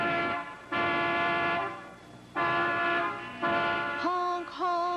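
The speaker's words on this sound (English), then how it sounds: "Honk, honk went the horns on the speeding cars." Car horns on a highway blare in long sustained honks, three or four loud blasts separated by short gaps, with the last ones bending in pitch, heard alone without talk.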